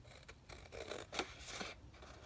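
Scissors snip and slide through paper to trim out small watercolor flower paintings, a few soft, close cuts with light rustling between them and no voices.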